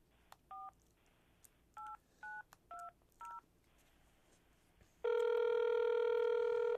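A phone number is punched in: five short, separate touch-tone beeps spaced out at uneven intervals, then a loud steady tone starts and holds to the end, close and alone with no talk.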